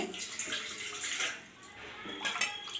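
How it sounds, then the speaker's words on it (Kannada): Water poured from a cup into a pot while making gulab jamun syrup, a steady splashing pour running for nearly three seconds with a brief lull in the middle, close and moderately loud. "2 ಲೋಟ 3 ಲೋಟ ನೀರು ಹಾಕ್ತೀನಿ."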